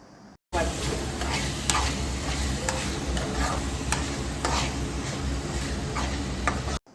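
Ginger and onion paste for crab curry frying in a pan while being stirred, a loud steady sizzle with scattered spatula scrapes and ticks, close up.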